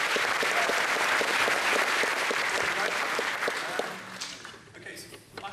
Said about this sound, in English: Please give a big round of applause for the next guy.